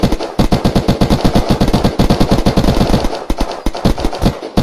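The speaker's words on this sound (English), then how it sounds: "Someone's shooting at me, I think." Rapid automatic gunfire in the video game Unturned, in the Arena mode, with dense bursts of shots, a brief pause, then more firing, loud and close throughout with no talking.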